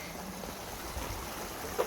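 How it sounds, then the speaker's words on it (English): A small stream gives a faint, steady burble of flowing water, heard from a little bridge on a walk beside a Scottish loch, with one brief soft knock near the end. "A cute wee stream on our walk getting into the loch."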